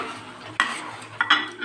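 Koi fish are slipped one at a time into hot oil in a pan, giving two or three sharp bursts of sizzle and splatter over a quiet background.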